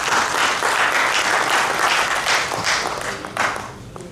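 Audience applause closing an interview, dense steady clapping from a room full of people that holds strong and then starts to thin toward the end.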